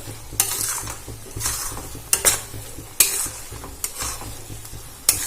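Poppy seed paste being sautéed in a pan, with a spoon scraping and stirring in repeated strokes, sharp clinks against the metal at intervals over a steady soft sizzle.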